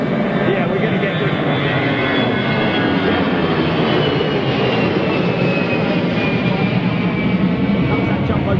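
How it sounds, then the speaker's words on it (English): Jumbo jet at Gatwick Airport, a loud, continuous jet engine roar with a steady whine drifting slowly lower in pitch, close and dominant throughout, with no pauses. "Comes that jumbo jet."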